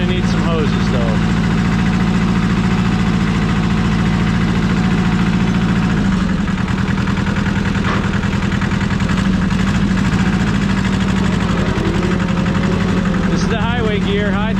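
A Sears loader's engine runs steadily in high third, the highway gear, making a loud, continuous low drone with a constant vibrating hum throughout, close up.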